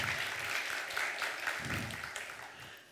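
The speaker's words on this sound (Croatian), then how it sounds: "Pozdravimo ih pljeskom." An audience applauds to welcome speakers at an entrepreneurship talk on startups; fairly faint, even clapping that holds steady for a few seconds and slowly fades.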